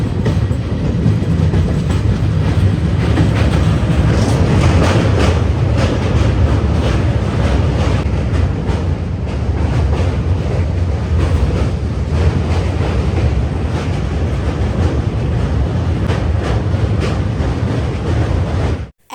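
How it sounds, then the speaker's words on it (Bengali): A long-distance train runs over the Jubilee Bridge across the Hooghly River, its loud, continuous rumble and rhythmic clatter of wheels on rails heard from inside the carriage for the whole stretch. "এখন আমাদের ট্রেনটা ছুটে চলেছে হুগলি নদীর ওপরে জুবিলি ব্রিজের মধ্যে দিয়ে।"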